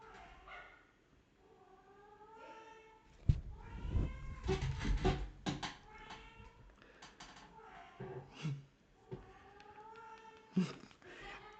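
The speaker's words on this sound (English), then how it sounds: "It's some cat making cat-friendly noises." A cat meows repeatedly through a phone speaker playing a short online video, its harmonic cries coming in bursts with a louder, noisier stretch in the middle, fairly close and with no talk over it.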